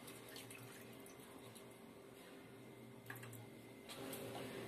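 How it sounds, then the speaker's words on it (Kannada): Water runs steadily from a kitchen tap while a mixer grinder jar is rinsed out during cooking of a paneer and green pea gravy, a continuous close hiss of flowing water with no speech. "ಈಗ ಜಾರ್ ತೊಳೆದ್ಬಿಟ್ಟು ನೀರ್ ಎಷ್ಟು ಬೇಕು ಅಷ್ಟು ನೀರ್ ಸೇರಿಸ್ಕೊಳ್ತಾ ಇದ್ದೀನಿ"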